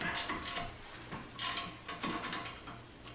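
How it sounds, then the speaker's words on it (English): A ratchet clicks in several quick close bursts while tightening the front caliper bracket bolts on a BMW E46 330xi during a brake pad and rotor job. "And your other caliper bracket bolts. Tighten them up."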